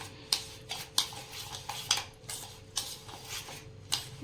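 A spoon stirs half a bowl of curd for semolina dhokla, clinking sharply against the bowl in quick, irregular strokes, close up and alone, with a soft wet scraping between the taps.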